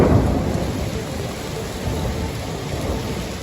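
A Colorado thunderstorm pours heavy rain in a steady loud hiss, with deep thunder rumbling underneath throughout, no voices.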